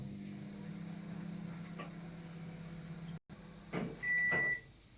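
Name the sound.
microwave oven running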